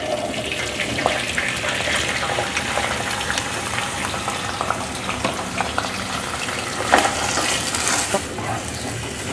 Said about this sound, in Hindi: ज़ीरे को थोड़ा सा भूनने के बाद इसमें मैं डाल दूँगी आलू।